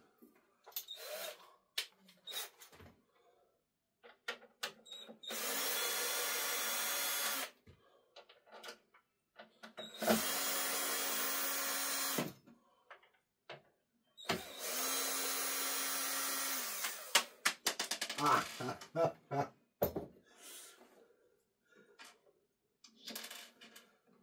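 Power screwdriver backing screws out of a Sony SS-MF450H speaker cabinet, three sustained whirring bursts of a few seconds each separated by clicks and handling noise, close and fairly loud.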